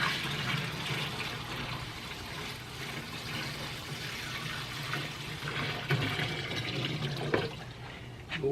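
Coolant fluid pours into the reservoir of a Marvel 916M bandsaw, the last 1.5 gallons going in as a steady, moderately loud splashing stream.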